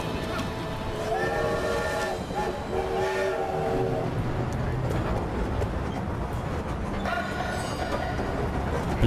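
Train in the video game The Saboteur, a steady rumbling rail noise with several drawn-out whistle blasts sounding over it, beneath faint voices and ambient sound.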